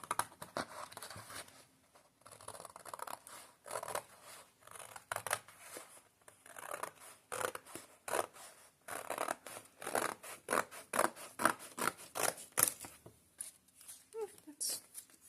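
Scissors snipping through a single paper page to cut out its middle, a steady run of close, crisp slicing and rustling strokes with brief pauses, the paper scraping softly between cuts, heard alone at moderate volume.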